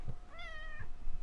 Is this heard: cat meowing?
yes